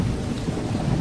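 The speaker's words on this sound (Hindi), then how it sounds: "तभी अचानक आसमान में बिजली कड़कने लगती है और तेज बारिश शुरू हो जाती है" Heavy rain pours and thunder rumbles during a sudden storm over a forest hut, a dense, loud, continuous roar with a strong low rumble and no voices.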